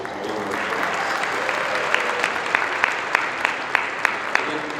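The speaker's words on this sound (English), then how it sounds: "And can we give a big round of applause to all of our" Applause for the fellows at a South Asian Bar Association gala, a dense, sustained round of clapping from a large crowd in a hall, steady and loud with a few sharper claps standing out.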